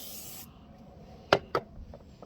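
WD-40 rubbed into faded plastic car trim: a short spray-like hiss, then two quick, distinct rubbing strokes and a few faint scuffs, close and quiet.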